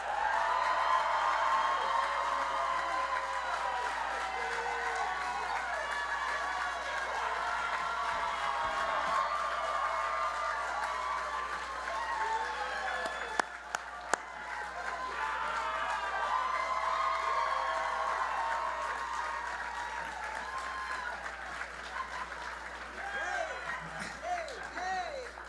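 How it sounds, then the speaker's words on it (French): A live podcast audience greets two guests with a loud, sustained burst of applause and cheering, with whoops, clapping continuing over many seconds and voices mixed in. "j'aimerais que vous fassiez un tonnerre d'applaudissements pour mes deux invités"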